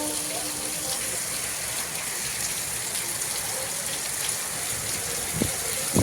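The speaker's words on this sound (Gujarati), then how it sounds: "એટલો વરસાદ છે" Dense, steady hiss of heavy rain pouring down without a break, with faint voices barely audible beneath it.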